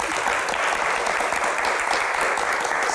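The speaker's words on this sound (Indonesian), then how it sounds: "Baik, tepuk tangan." Sustained applause from a studio audience at a televised interview with Indonesia's Minister of Law, dense steady clapping filling the whole stretch without a break.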